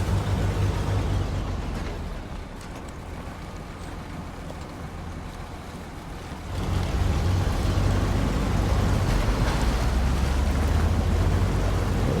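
Rushing river water in the SnowRunner video game, a steady broadband wash with low rumble that swells louder partway through and holds, with no voices.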